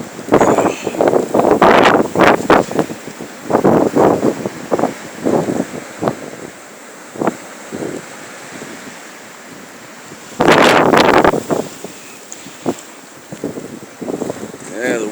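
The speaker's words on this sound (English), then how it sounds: "the wind and the snow just kind of speaks for itself right there. Trees bouncing up and down." Blizzard wind and snow blowing hard through bouncing trees in Bangor, Maine, roaring in loud gusts with rushing bursts, while someone talks over it.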